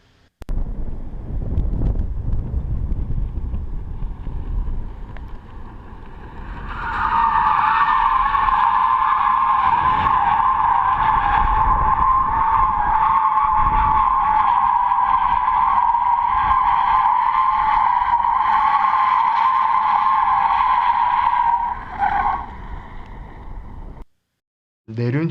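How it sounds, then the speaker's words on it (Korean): Electric car drifting with heavy inner wheel spin, tires squealing in one long sustained loud screech amid wind noise and engine hum, then abruptly cutting off. "내륜 휠 스핀이 크게 발생하여 타이어가 타면서 연기가 나는 것을 볼 수 있습니다"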